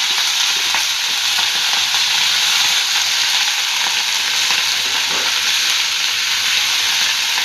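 Mint leaves frying and being stirred in a pan with green chillies, a steady continuous sizzle and hiss with occasional scraping stirs, close and fairly loud throughout.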